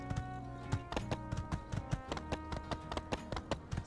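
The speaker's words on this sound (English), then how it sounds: "Don't you worry, little horse, I'll keep feeding you pills from Fang's place" A horse in the video game My Time at Sandrock trots along, its hooves clip-clopping in a quick steady rhythm over game music, fairly faint.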